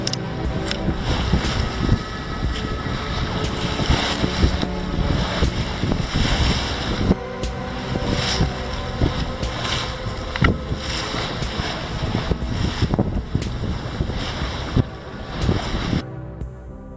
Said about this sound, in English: We had to motor sail for the first couple of hours.